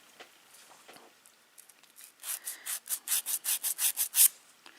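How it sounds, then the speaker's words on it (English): A 180 grit nail file rubbing against short almond-shaped nails: faint strokes at first, then a steady run of about a dozen rhythmic rasping back-and-forth strokes, close and growing louder. "Now, I'm going to take my 180 grit file."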